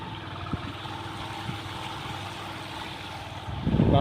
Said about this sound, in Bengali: রাস্তা দিয়ে জল বইছে আর আমরা তারই মাঝখান দিয়ে যাচ্ছি।